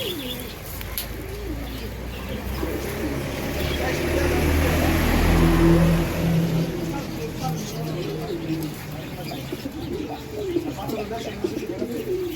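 Pigeons cooing at a busy village pigeon market in Ruhitpur, repeated soft coos rising over crowd chatter and background noise, loudest near the middle.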